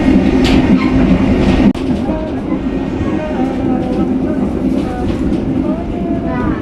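The KA Sibinuang train runs near Padang in Sumatra, a loud, continuous rail rumble with rhythmic wheel clatter and a brief sharp jolt partway through.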